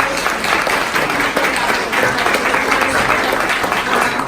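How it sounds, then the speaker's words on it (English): Steady, dense applause from a seated audience at a luncheon honoring women in law enforcement, sustained at an even level throughout with no pauses. "About a round of applause for our servers."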